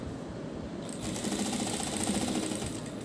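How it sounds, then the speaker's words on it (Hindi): A sewing machine stitches a neck design with dori loops, running in a steady, close, continuous mechanical patter that picks up slightly in pace partway through. "इस तरह से सिलाई लगाते हुए"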